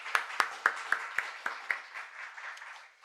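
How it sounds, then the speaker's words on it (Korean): A church congregation at a Sunday joint service claps in encouragement for the teachers and youth, a steady run of close hand claps that starts crisp and loud, then thins and fades out over a few seconds. "우리 청소년들에게 격려의 박수 한번 보내주세요"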